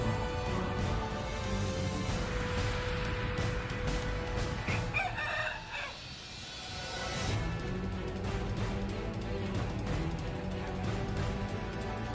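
A rooster crows loudly and repeatedly while hens cluck around it in a farmyard with cows, with a brief clatter partway through.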